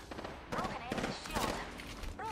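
Gunfire crackles in short bursts during an Apex Legends match, somewhat distant and fairly faint, with several rapid volleys over a couple of seconds.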